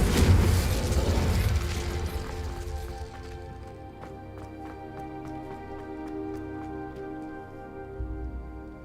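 A Confringo explosive spell in the video game Hogwarts Legacy goes off with a loud, broad boom, then fades into a long ringing, shimmering tail of tonal decay with faint crackles.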